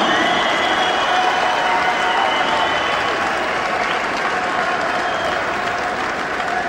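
Loud, sustained crowd applause with cheering at a boxing match for a WBU world welterweight title bout, a dense wash of clapping and shouting from a large arena audience.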